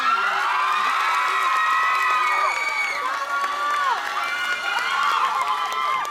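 A large concert crowd at a live pop show cheers and shouts continuously, many voices screaming and whooping at a steady loud level, with scattered clapping mixed through.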